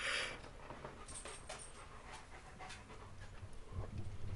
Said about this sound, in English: If you hear breathing, it's because Chief is behind me and he's currently sniffing me